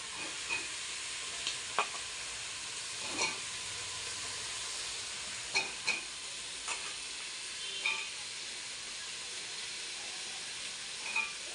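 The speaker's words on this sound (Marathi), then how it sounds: "हे भाज्या पण आहे ना ह्याच्यातच टाकणार म्हणजे फ्राय करून घेते" Vegetables for veg pulao frying in a pan, giving a steady close sizzle and hiss with occasional soft clicks of a spoon stirring, alone with no talk.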